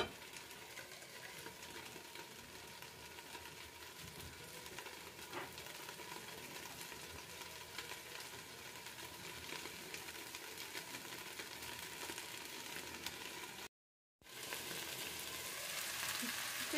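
Cabbage cooking under a lid in a frying pan for sake-steamed clams, a faint constant hiss and sizzle with slight crackle, brief silent gap near the end.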